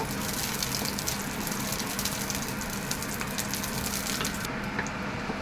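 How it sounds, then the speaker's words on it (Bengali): Steady hissing sizzle of white cumin seeds frying in hot oil, close and continuous, with faint clinks near the end. "জিরেটা একটু ভেজে নেব"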